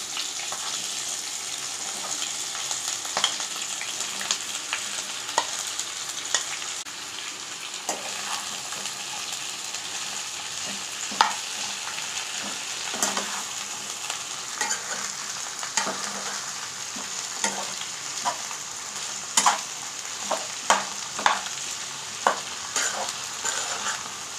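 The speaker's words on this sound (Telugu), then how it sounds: "ఇప్పుడు ఇందులోనే మరికొద్దిగా ఆయిల్ వేసుకొని ఈ నల్లేరు కాడలని ఇందులో వేసుకొని బాగా ఫ్రై చేసుకుందామండి" Nalleru (veld grape) stems fry in oil in a pan, a continuous bright sizzle with frequent scraping and clinking of a stirring spoon, close and steady throughout.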